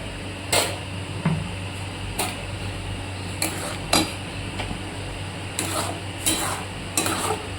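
Raw mango paste being stirred in a kadai, with sharp scrapes and clinks of a spoon against the pan recurring at irregular intervals over a low background hum.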